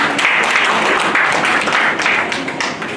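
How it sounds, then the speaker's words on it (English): A church congregation claps in praise during a Saturday service, a loud, steady wash of many hands that stays dense throughout and tapers slightly near the end. "can we give God a mighty clap of praise?"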